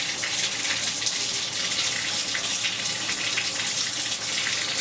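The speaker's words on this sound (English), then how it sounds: "rinse these until the water runs completely clear, and then let them dry" Tap water runs steadily into a sink while turmeric tie-dyed fabric is rinsed, a close, continuous gushing hiss with no pauses.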